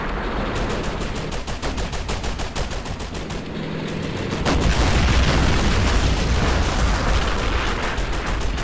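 Battlefield combat in the strategy game Men of War: Assault Squad 2 with a Russian tank charge: rapid, rhythmic bursts of gunfire crackle continuously, joined midway by heavier booming explosions that thicken the din.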